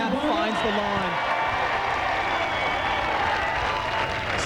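Crowd applauding and cheering at a 2005 AVP men's beach volleyball semifinal at the Santa Barbara Open, a steady wash of clapping and crowd noise that carries on under commentators talking.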